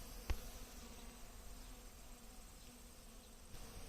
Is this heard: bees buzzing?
yes